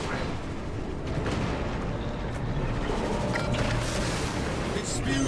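Heavy booming cannon fire in a sci-fi war video game, rumbling and continuous like a sustained artillery barrage, loud and dense throughout with no break.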